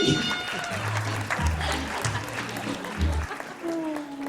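Applause from guests at a baby shower, a soft continuous patter of clapping with a low voice speaking intermittently beneath it, moderate in level throughout.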